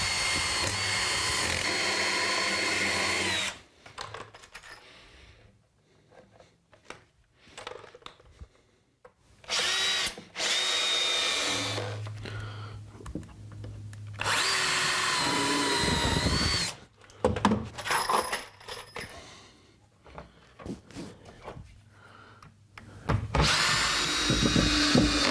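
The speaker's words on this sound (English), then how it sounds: "So I'll just screw these in place." Power drill driving screws into wooden chicken coop panels in repeated bursts of high whirring, each run a few seconds long, separated by quiet pauses and small handling clicks.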